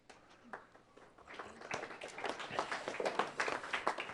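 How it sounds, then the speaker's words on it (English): Scattered, polite applause from a small seated audience at a talk, starting sparse and building into steady light clapping over a few seconds with faint voices underneath. "The golf applause."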